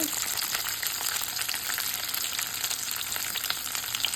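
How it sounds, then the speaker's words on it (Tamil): Onion and curry leaves sautéing in hot oil for a ridge gourd thuvaiyal, a steady close sizzle with faint scraping and stirring throughout. "இதில் வெங்காயம் நல்லா வதக்கு."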